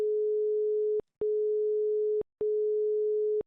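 Phone line busy signal after a caller hangs up: a steady tone pulses in three even one-second bursts separated by short gaps, clear and alone with no talk.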